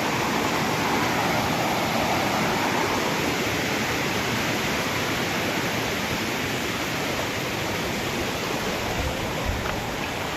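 The stream below Hathni Mata waterfall roars in a dense, unbroken wash of rushing water, loud and close throughout with no voices.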